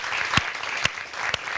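Sparse applause from a small audience at a morning radio broadcast event, a few loud claps standing out over a steady soft wash of clapping.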